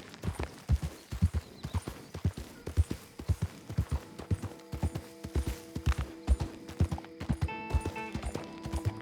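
A horse galloping in Red Dead Redemption II, a fast, regular, close clip-clop of hooves throughout, with a thin tonal sound entering toward the end.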